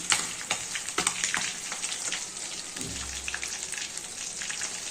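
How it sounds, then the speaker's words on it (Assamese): Fish frying in a pan and being turned over, heard as a dense, close, crackling sizzle with quick spattering pops throughout and a brief low thud partway through. "এইখিনি মাছটো এতিয়া মই এবাৰ লৰাই দিওঁ।"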